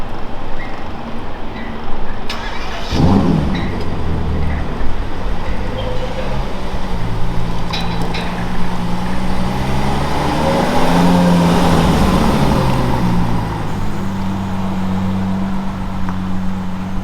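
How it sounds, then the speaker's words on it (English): A Ferrari pulls in outside the Pagani factory in Italy, its engine a low, steady drone that swells gradually to a louder rumble and then settles, with faint background noise around it. "we walk out and the Ferrari just happens to be pulling in"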